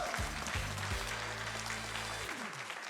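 Applause from a live event audience, a steady continuous wash of clapping, with a low droning tone underneath that fades out near the end.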